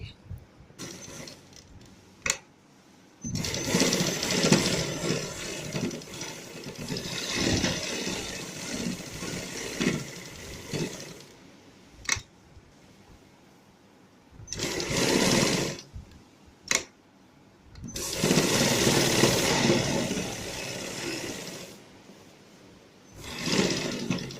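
A sewing machine stitching a designer neckline with potli buttons runs in several bursts of steady whirring, some long and some short, with brief pauses and clicks between, close and alone.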